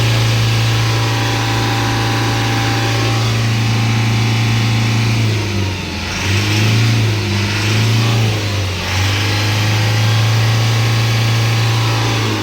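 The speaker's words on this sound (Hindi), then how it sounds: "स्टार्ट करने के बाद हम आपको रेस करते हैं।" A car engine runs steadily with a deep hum, its pitch rising and dipping briefly midway as it is revved, close and loud throughout.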